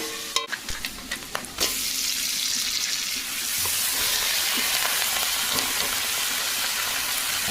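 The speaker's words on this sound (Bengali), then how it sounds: "এই দেখো এদিকে চিংড়ি মাছটা ভাজা হচ্ছে" A few utensil clinks, then prawns sizzle steadily and loudly in hot oil, a continuous crackling hiss close by.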